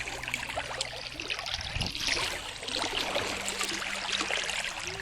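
Gently flowing stream trickling steadily on a hot summer day, a faint, continuous wash of water with no voices.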